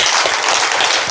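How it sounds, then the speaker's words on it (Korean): A church congregation at a Sunday service applauding, a dense, loud, continuous wash of clapping from many hands filling the whole short moment. "이해가면 박수로 하나님께 영광 드리시기 바랍니다."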